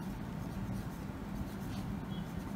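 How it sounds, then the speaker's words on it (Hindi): Chalk or marker writing a sentence on a classroom board during an English grammar lesson, a steady faint scratching and tapping texture running continuously for a few seconds with no talk over it. "अब दूसरा सेंटेंस इसको लिखते हैं हम"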